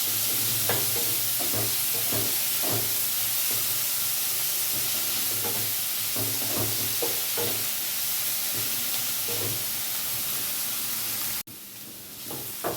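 Potato and banana stem fry in a pan, a continuous loud sizzle with repeated scraping stirs, cutting off abruptly near the end to a quieter hiss.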